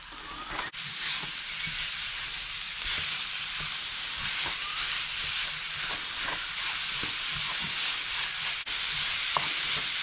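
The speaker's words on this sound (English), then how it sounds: "I'm going to add my beef mince, and that's about 500 grams" Beef mince, about 500 grams, sizzles steadily in a hot pan, a broad continuous frying hiss with small crackles and occasional stirring scrapes, close and fairly loud with no talking.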